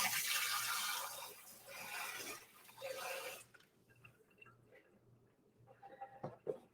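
Water poured from a tap into a bowl while cleaning up after making chocolate cups, a loud rushing stream for a few seconds that then thins to scattered trickles and drips.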